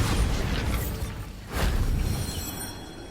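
The Bombarda blasting spell in Hogwarts Legacy sets off a muffled explosive burst. A rumbling boom is followed by a second sharp whoosh-like blast midway, with fading debris noise afterward, and no voices.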